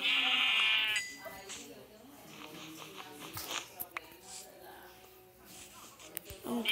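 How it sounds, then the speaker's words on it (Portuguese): Sheep in the video game Minecraft give a loud, close bleat at the start, followed by soft footstep-like shuffles and clicks while a person talks quietly over the game. "Achei mais umas três ovelhas ali"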